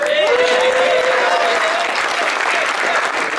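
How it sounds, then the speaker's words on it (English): A crowd claps and cheers in sustained applause, loud and close, with a few voices calling out over the clapping. "Can I get a round of applause for Isaiah?"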